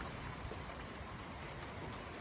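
Steady rain pours down in stormy, windy late-February weather, a dense continuous hiss close by with no voices.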